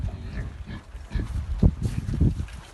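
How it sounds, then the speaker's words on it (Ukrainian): Pigs grunt and snuffle in short, irregular bursts close by as they eat pumpkins, with low chomping noises between them. "Свинки, свинки їдять, гарбузи."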